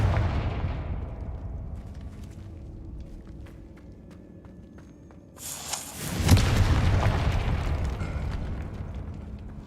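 A Confringo blasting spell in the Hogwarts Legacy video game blows through a barricaded archway: quiet ambience, then a sudden loud booming burst that rolls into a rumbling, crumbling tail.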